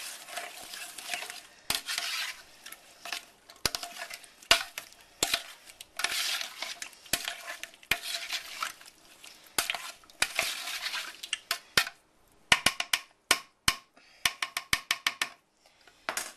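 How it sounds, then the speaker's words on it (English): Garlic being stirred into a pot of meatball soup, with scraping spoon strokes, a soft bubbling hiss and a run of sharp metallic taps against the rim near the end. "And I'll just stir that in."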